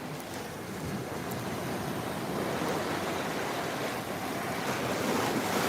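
Ocean waves break and wash continuously on a beach at sunrise, a full, steady surf roar with wind buffeting the microphone and no voices.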